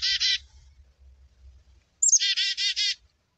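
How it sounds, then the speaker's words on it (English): Chickadee calling: a short burst of bright chirped notes, a pause over faint low rumble, then a louder run of four quick repeated chirps close by. "This is a chickadee."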